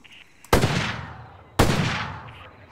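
Two loud, sharp gunshots from a first-person shooter ring out about a second apart, each cracking sharply and fading into a long echoing tail.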